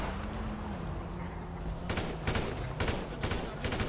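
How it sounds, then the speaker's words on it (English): Automatic gunfire in a video game, a series of rapid bursts in the second half, loud and close, over a low background hum with faint voices talking underneath. "Gunshots, automatic"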